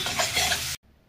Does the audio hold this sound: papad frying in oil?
yes